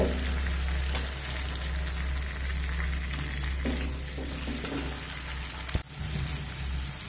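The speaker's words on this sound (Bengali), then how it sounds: "সেই মশলাটা দিয়ে দেব আর দিয়ে দেব অল্প একটু জল দিয়ে খুব সুন্দর করে মশলাটা কষিয়ে নেব" Spice paste frying in a pan with fried eggplant and onion: a steady, close crackling sizzle runs throughout, with a brief clatter near the end and no talking.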